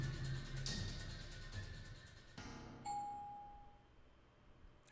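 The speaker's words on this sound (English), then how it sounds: "The gentle chime of the elevator shatters the silence" An elevator chime rings out once in the Tsukihime visual novel, a clear sustained tone cutting through a dense background hum and fading over a couple of seconds.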